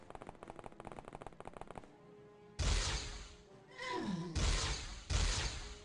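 Automatic weapon fire in the OpenXcom Warhammer 40k mod, a loud burst of rapid shots followed by several heavy bursts with a falling tone, after a stretch of quieter rhythmic game sound.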